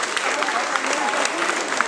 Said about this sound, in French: on peut chaleureusement les applaudir